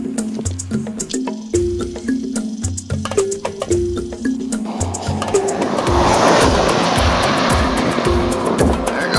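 A truck hauling a trailer rolls past on a one-way road, its engine roar and broad tyre rush swelling from a pulsing, rhythmic rumble into a loud, steady wash of noise as it draws close.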